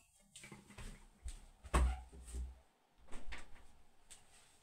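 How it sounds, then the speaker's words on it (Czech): A door is pushed shut indoors with a sharp thud after some shuffling and handling noises, followed by a few softer knocks and rustles nearby. "A já jdu zavřít dveře, jo."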